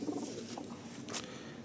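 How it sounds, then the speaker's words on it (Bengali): Pigeons at a pigeon seller's loft giving soft low coos, quiet and close, with a brief rustle. "প্রত্যেকটা পায়রা ফিট আছে"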